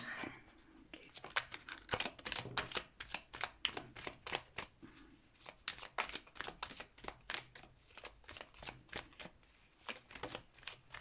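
Witches' tarot cards are shuffled and handled up close, giving steady rapid riffling and slapping card noises with brief pauses, fairly quiet and without speech.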